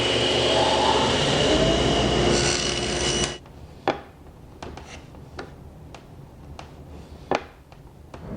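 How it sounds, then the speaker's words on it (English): A home furnace roars steadily in a woodworking shop for the first few seconds, then cuts off, leaving a quieter room with scattered sharp knocks and taps from workshop activity. "That's my furnace going off."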